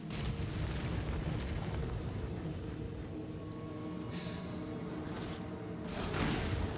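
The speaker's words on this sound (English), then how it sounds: "Explosions." Fiery explosions and bursts from skills in the action RPG Path of Exile, a steady dense rumble of booming blasts with brief whooshing pops layered on top, continuous and fairly loud with no talk.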